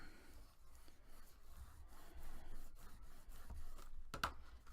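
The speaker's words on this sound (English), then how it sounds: "I lined up my two center lines together, And I'm burnishing this" Paper is burnished along lined-up center lines for a box craft, giving faint, quiet rubbing and scraping strokes in an irregular rhythm, with one sharper scrape near the end.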